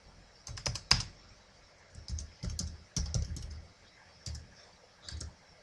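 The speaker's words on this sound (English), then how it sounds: "To change a value in a field, you simply type in a new one." Keys tapped on a computer keyboard to enter a new value into a record field, in short irregular bursts of clicks heard up close and fairly quiet.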